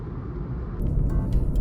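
A Volkswagen Polo GT TSI with a 1-litre turbocharged petrol engine accelerates hard, giving a deep, steady engine rumble heard from inside the car over a short stretch.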